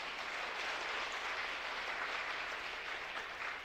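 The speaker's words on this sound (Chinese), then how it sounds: "我们再用热烈的掌声谢谢蔡牧师" A church congregation at a Sunday service applauds warmly for a pastor, a steady, dense wash of clapping that holds at an even level throughout.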